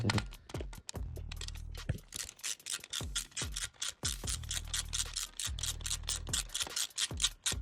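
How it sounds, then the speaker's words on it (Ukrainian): A small ratchet unscrewing a stuck exhaust bolt on a Suzuki ZZ scooter, with rapid clicking bursts repeated in quick back-and-forth strokes, close and dry, with no speech. "І так, відкручуємо другий болт"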